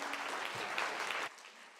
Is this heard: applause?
yes